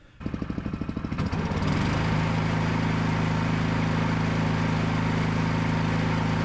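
A Honda engine on a Permagreen Magnum spreader-sprayer sputters to life with rapid chugging pulses, then settles into a loud, steady, close droning hum that carries on alone.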